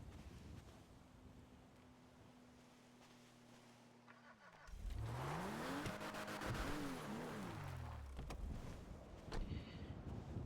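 A car in a video game drives and is manoeuvred into a parking spot: a steady engine tone gives way to revving that rises and falls, with some tire noise, under faint wind-like background.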